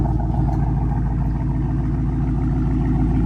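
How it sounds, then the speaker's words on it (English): A loud Dodge Charger R/T engine, started by remote start, idles with a deep, throbbing rumble and steady rhythmic pulsing, close by, no talking. "Double tap that remote start button."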